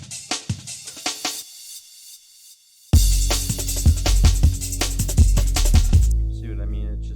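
A crash cymbal lands on the drop of a jungle drum break, its bright wash sitting over dense, punchy breakbeat hits after a quieter intro and a brief near-silent gap.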